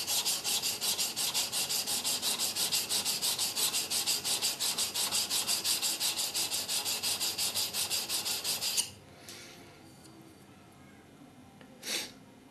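A European woodworking chisel is rubbed against a sharpening stone in fast, even back-and-forth strokes, a close scratchy rasp lasting several seconds before it stops and the room goes quiet except for a brief knock near the end.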